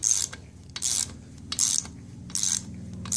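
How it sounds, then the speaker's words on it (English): A torque wrench ratchets on cylinder head bolts during a 7.3 engine build, giving about five short, crisp bursts of clicking at an uneven pace, close by over a low steady background hum. "So we'll bottom them out with a regular wrench and then throw the torque wrench on it."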